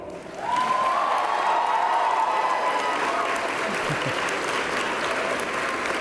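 Graduating students at a university convocation ceremony burst into loud, sustained applause from a large indoor crowd, with a faint voice audible at the start.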